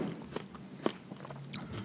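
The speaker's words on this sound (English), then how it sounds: "I'm going to bite into this little cherry tomato." A small cherry tomato is bitten and chewed close up, with a soft crunch followed by quiet wet chewing and squishing, heard alone at low volume.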